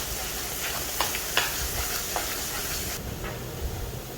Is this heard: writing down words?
no